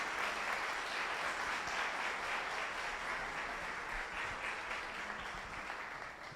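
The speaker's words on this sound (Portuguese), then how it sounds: "Vamos aplaudir, né, igreja?" A church congregation breaks into sustained applause, a thick, even roar of many hands clapping at once, continuous and fairly distant, tapering slightly at the end.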